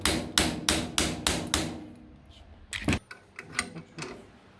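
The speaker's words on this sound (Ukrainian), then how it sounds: "З допомогою молотка ми його туди підбили" Seven sharp, evenly spaced metallic hammer blows driving a brake caliper piston on a rear Audi A6 C5 caliper, followed by a heavier thud and a few lighter taps and clicks.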